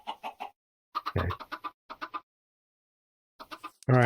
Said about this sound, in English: Okay, we got more chickens out here.